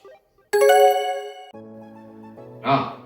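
A phone message notification rings out as a bright chiming tone that sustains for about a second, followed by a softer two-step tone and then a brief breathy sigh.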